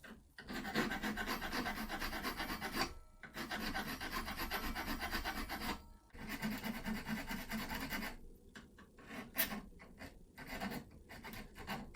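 A file rasps against metal to sharpen the point of a lock pick, producing steady back-and-forth grinding strokes close up, broken by short pauses, then lighter, choppier finishing strokes.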